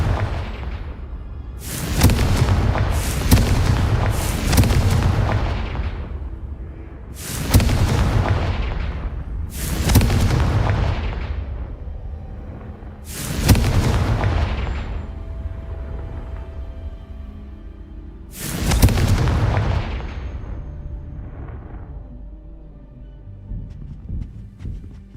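Confringo and Bombarda spell explosions in Hogwarts Legacy, a series of about eight loud, close booming blasts in uneven bursts, each bang trailing off into a rumbling decay before the next.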